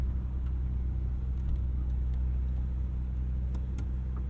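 A 1977 MG Midget engine drones steadily from inside the moving car, a loud low rumble holding even throughout with faint ticks on top and no talk.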